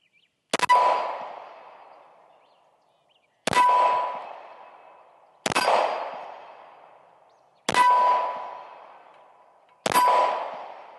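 Five single shots from a Ruger RXM pistol during an ammunition test, each a sharp crack with a ringing, fading tail, spaced about two seconds apart after a longer first gap.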